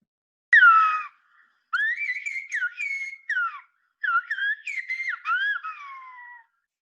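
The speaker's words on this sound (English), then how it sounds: "The whistling sound you just heard is a language that's thousands of years old." Whistled language of La Gomera in the Canary Islands: a single clear, piercing whistler produces a series of gliding, pitch-shifting phrases in three or four bursts separated by short pauses, loud and alone against silence.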